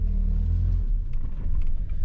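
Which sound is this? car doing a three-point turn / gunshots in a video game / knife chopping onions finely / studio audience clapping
car doing a three-point turn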